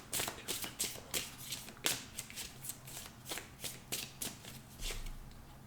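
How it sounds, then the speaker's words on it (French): Tarot cards being shuffled by hand, a run of crisp riffling flutters and soft slaps repeating in quick bursts, close and fairly quiet with no talking. "Ok, allez, je remélange une fois."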